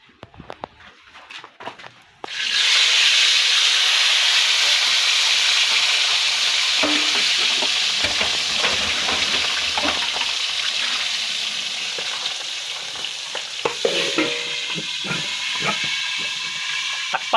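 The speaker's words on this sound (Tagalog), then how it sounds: "Takpan natin guys kasi pumuputok yung ubod. Yung katawan niya pumuputok. Dahil sa sa mantika, yung oil." Heart of palm (ubod) frying in oil, starting from quiet rustling before a loud, steady sizzle with scattered sharp pops and crackles, close up and persistent, no speech.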